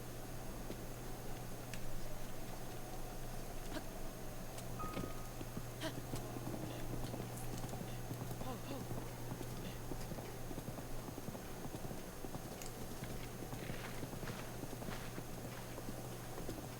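Horse hooves in The Legend of Zelda: Breath of the Wild, faint steady clip-clop steps under a constant low hum and hiss from the game, with no talk.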